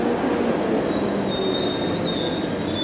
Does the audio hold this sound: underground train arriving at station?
yes